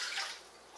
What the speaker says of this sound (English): I am going to pour in 1 cup of water so it doesn't burn.